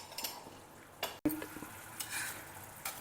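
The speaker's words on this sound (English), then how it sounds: "Simmer it a little more till the oil starts separating" Tamarind chilli sauce (puli milagai) simmers in a pan while a spoon stirs it, giving soft scraping strokes over a faint, steady bubbling, quiet and close.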